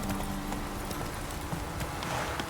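Steady clip-clop of horse hooves trotting in a quick, regular rhythm in The Witcher 3: Hearts of Stone, close and continuous over a noisy background.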